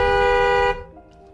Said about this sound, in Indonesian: Dan dia membunyikan klakson untuk memberi kode kepada broker.